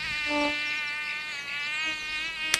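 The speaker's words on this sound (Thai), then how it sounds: "โอ้ย ลำคาญยุงพวกนี้จังเลย" Mosquitoes in an animated Thai Jataka tale buzz with a close, high-pitched whine that wavers continuously, ending in a brief sharp slap-like click.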